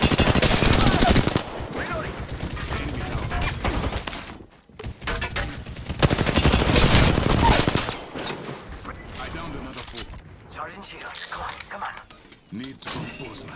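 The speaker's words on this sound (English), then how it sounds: "I'm taking fire." Video game gunfire crackles in heavy, rapid volleys that are loud and close, easing off briefly before resuming, with voices talking over the combat sounds.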